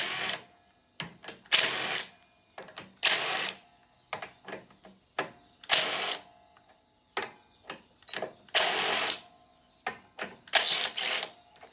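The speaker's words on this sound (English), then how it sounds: "where's air impact?" Air impact wrench removing bolts from a Briggs-powered Masport self-propelled mower engine, loud close bursts of rattling hammering repeated about a dozen times with short pauses and clicks between.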